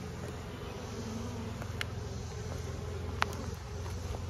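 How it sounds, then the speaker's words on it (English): Honey bees buzz steadily around a Layens hive as a colony is moved to its new home, a low continuous droning hum with a couple of brief sharp clicks and no talking. "I give them a chance. They're going to get them corralled again."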